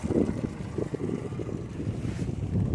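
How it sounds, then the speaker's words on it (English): Steady wind rushing and buffeting against the microphone outdoors on a lake during a boat test, with low rumbling gusts throughout and no voices. "It's actually a little windy today."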